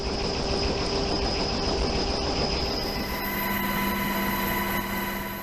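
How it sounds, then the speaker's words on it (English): A rescue helicopter hovers over a boat at sea with a steady, loud rotor and turbine drone. The tone holds throughout with a thin whine on top. "the crew is hoisted off the deck of the boat and into the helicopter, and the cabin door is shut."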